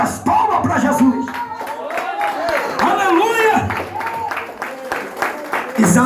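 A congregation at an evangelical church service claps and applauds in praise. The clapping is dense and continuous beneath a preacher's loud, excited voice and shouts from the crowd.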